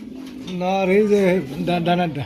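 Big pigeons at a pigeon market give a low, rolling coo in two close swelling phrases, with people's voices around them.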